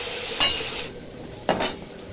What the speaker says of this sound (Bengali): মুলো ভাজা তেলটা বেশি একটু পড়ে গেছে